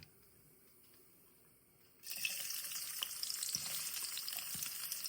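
Onions go into hot ghee for a drumstick-leaf soup: near silence, then a sudden loud, steady sizzle that holds close and bright to the end.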